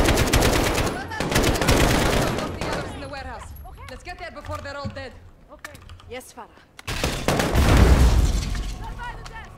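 Heavy gunfire from the Call of Duty: Modern Warfare campaign bursts loudly at the start and again near the end, with characters talking over a quieter stretch in the middle.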